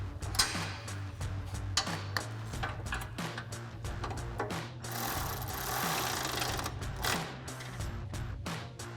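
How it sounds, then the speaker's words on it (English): A 13mm socket wrench ratchet tightening a bolt while a Jeep Gladiator JT fender flare is installed, making rapid repeated clicking strokes close by, briefly smoothing into a hissing whirr midway, with no talk. "So I've got a 13mm socket and wrench for this guy."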